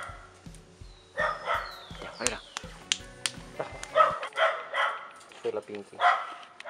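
A small dog yaps and barks in a series of short, sharp bursts nearby, mixed with a person speaking over and between the barks.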